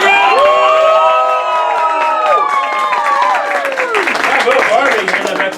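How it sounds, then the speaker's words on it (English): Audience at a sword swallowing sideshow roaring with cheers, whoops and shouted voices over applause, loud and close, with the excitement tailing off slightly toward the end. "big round of applause for Barbie"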